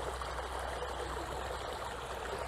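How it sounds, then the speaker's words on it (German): Water splashes steadily out of a pipe inlet into a river, a continuous broadband rushing and trickling sound at close range with no voices. "der Einlauf selber durch ein Rohr sieht nicht so toll aus, aber wenigstens etwas plätscherndes Wasser"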